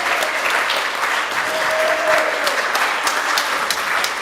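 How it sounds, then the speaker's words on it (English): Audience applause at an Oakland Rotary club meeting welcoming new members: steady, dense clapping from a room of people that holds evenly for several seconds, with a faint tonal whistle partway through. "Please give them a huge round of applause."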